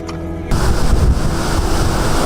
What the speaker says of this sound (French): Des vents forts soufflant,